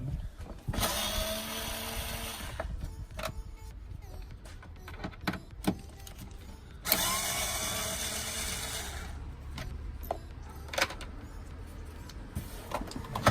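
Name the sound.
removing screws from a car air filter box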